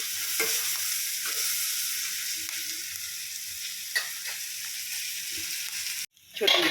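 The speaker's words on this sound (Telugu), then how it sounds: "అప్పుడు మాడిపోకుండా ఉల్లిపాయలు కూడా వేగుతాయి అన్నమాట" Onions fry in oil with salt, chili powder, turmeric and green chilies in a pan on the stove, giving a steady hiss. A spoon scrapes through at intervals, and there is a brief clatter near the end.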